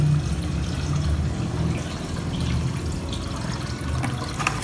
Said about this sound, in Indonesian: Ini kita penuhi airnya dulu ya, kebetulan ambil air di kolam ikan